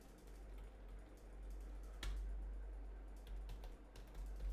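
Soft, rapid typing on a computer keyboard comes in scattered bursts of light clicks, close but quiet over a low steady hum, with no talking.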